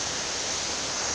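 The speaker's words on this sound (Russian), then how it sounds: "Водопад, мужские слезы." Water pours steadily at a waterfall near Lake Ritsa, a dense, even rushing hiss that fills the short stretch without pause.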